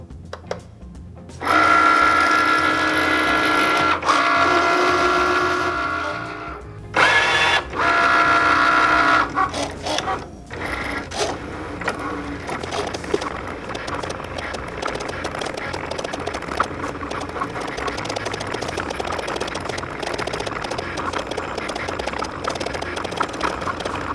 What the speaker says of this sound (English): now that our machine is done cutting